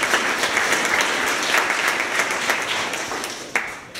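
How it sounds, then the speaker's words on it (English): An audience at a coding bootcamp demo day gives a steady round of applause that fills the whole stretch, dense and continuous with a brief louder burst near the end. "I want to give a round of applause for everybody who came today"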